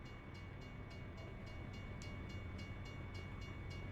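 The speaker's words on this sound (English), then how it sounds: "There goes the train." A train rolls past in the American Truck Simulator video game, a steady dense rumble with faint rhythmic clacking, continuous and fairly distant throughout.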